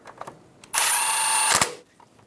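A power tool tightens the bolt on a brake line bracket of a 2014-2018 Chevrolet Silverado 1500: one steady, close, high-pitched whir lasting about a second, with a short clatter as it stops.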